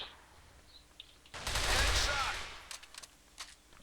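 A loud burst of pistol gunfire from the online shooter game CrossFire fires in a quick, dense volley lasting about a second, then trails into a few scattered sharp shots.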